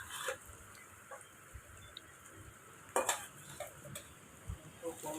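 Duck meat frying in a pan in a village kitchen, a quiet sizzle under occasional clinks and scrapes of a stirring spoon, heard close but faint.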